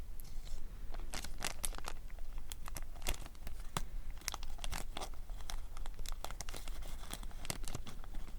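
Desert Storm Pro trading card packs are torn open and handled close up, with continuous crinkling foil and paper and sharp tearing rips in irregular bursts.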